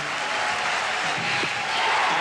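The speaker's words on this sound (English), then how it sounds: "The crowd is into the game early." A large ballpark crowd at a 1988 Boston Red Sox game applauds and cheers steadily as one broad wash of noise, a distant voice faintly audible underneath.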